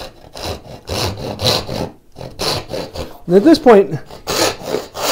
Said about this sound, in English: Just trust your saw to cut straight across.